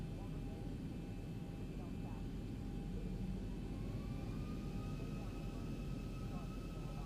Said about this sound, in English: All right, so we're going to spool up again.